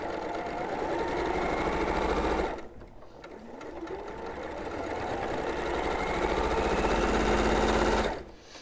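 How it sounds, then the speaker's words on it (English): A sewing machine stitches fabric along marked lines in two loud, steady runs of rapid mechanical whirring, with a short pause between them and another brief stop near the end. "And then, same again, sew on the lines."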